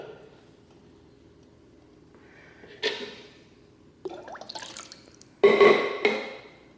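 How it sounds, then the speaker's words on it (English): Cool water poured from a container over eggs in a pot, with faint trickles at first, then louder splashing gushes and drips near the end. "you take cool water, pour it over the eggs"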